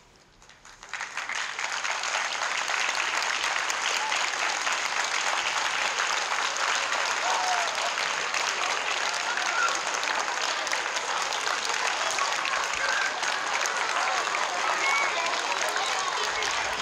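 An audience applauds at a school-district event honouring educators and administrators at a Milken Educator Award surprise, dense sustained clapping that swells after a quiet start and holds steady throughout.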